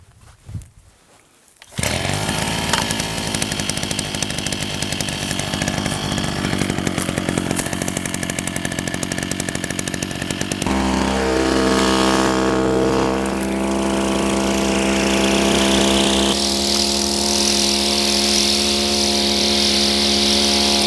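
A long-unused small two-stroke brush cutter engine, hard to start from oil settled inside, sputters to life after a moment of quiet, then runs loud and buzzing nearby, its pitch shifting as the revs change.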